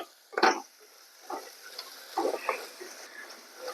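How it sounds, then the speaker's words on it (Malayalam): Ginger sautés in a pan for a crab curry, a soft sizzle broken by several scraping stirs of a spoon against the pan, close and fairly quiet, with no talking. "അങ്ങനെ ഇഞ്ചിയൊക്കെ നന്നായിട്ട് വഴന്നിട്ടുണ്ട്"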